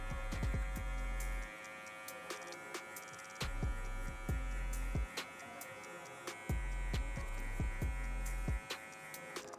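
Electric hair clippers cut a mid drop fade, giving a close, steady buzzing hum in repeated bursts with short pauses as the strokes start and stop.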